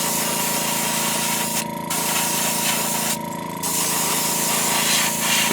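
An airbrush or spray gun lays an opaque white coating over a Spro fishing lure, a steady close hiss running almost the whole time with two brief pauses.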